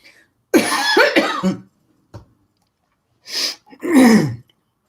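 Harsh, repeated coughing fits after swallowing water the wrong way, close and loud, in two bursts separated by a short pause, with a throat-clearing sound between them.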